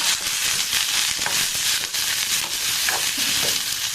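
Chopped ridge gourd and coriander leaves being stirred in a hot oiled pan for a chutney give a loud, dense sizzle close by, broken by repeated scraping strokes of a spoon.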